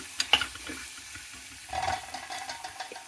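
Diced potatoes with salt and chili powder cooking in a pan for aloo methi, with a soft sizzle and a couple of stirring clatters near the start, fairly quiet and with no one talking.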